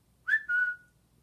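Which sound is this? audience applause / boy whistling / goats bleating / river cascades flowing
boy whistling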